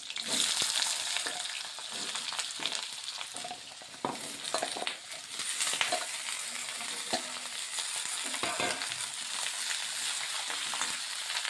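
Vegetables fry with green chillies and black cumin in a pan, a continuous close sizzle broken by intermittent stirring scrapes and clinks, with no voices.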